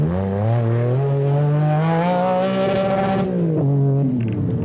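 An MG Metro 6R4 rally car racing in the 1988 Esso Metro Super Challenge: a loud, close engine holds a high, strained note, climbs, then drops as it passes, with no talk.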